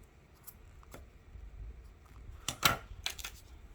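Scissors snip the end off a fabric webbing strap for a bag, with a couple of short, crisp cuts near the end against a quiet room.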